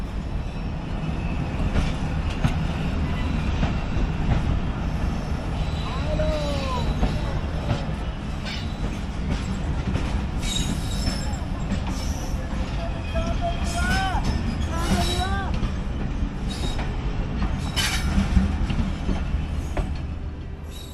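A train crossing Rohri station on a loop line, rerouted after an accident near Ghotki, gives a steady, loud rolling rumble for the whole stretch, with brief high wheel squeals rising over it midway.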